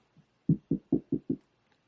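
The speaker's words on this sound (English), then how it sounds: "knock on wood." Five quick hollow knocks on wood, evenly spaced and close, preceded by one softer tap, in an otherwise quiet room.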